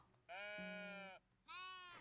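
Sheep in the video game Tiny Glade bleating twice, a long wavering bleat followed after a short gap by a second shorter one, clear and close with no talk.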